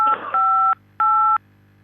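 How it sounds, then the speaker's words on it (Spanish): Telephone keypad tones cut into a phone line during a radio call-in interview: two steady dual-pitch beeps, the first longer with a brief crackle, the second shorter after a short gap, over a low line hum. "ahí se nos metió un tecladito en el teléfono, pero ahí ya salió"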